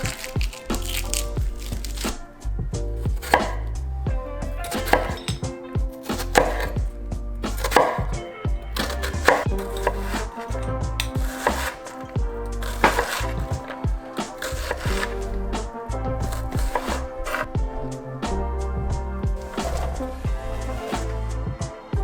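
Vegetables are diced on a cutting board with a knife while pork sears nearby for carnitas, producing rapid, close, rhythmic chopping thuds that repeat in quick bursts for over twenty seconds.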